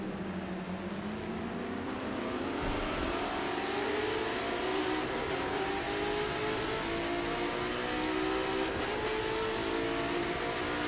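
McLaren GT3 race cars run side by side at Hockenheim, engines droning and rising in pitch as they accelerate together, a continuous layered roar at moderate distance with no voices.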